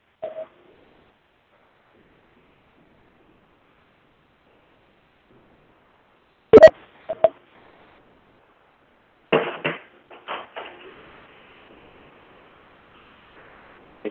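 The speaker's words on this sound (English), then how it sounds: "We hear a lot of beeps." Beeps and clicks come over a conference meeting's phone line, a few short sharp bursts and brief tone clusters separated by long silences, faint and intermittent with no talking.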